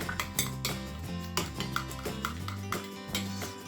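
Herring salad ingredients being stirred together in a bowl: a utensil clinks and scrapes against the dish in a quick irregular rhythm, close and fairly crisp, with no talking.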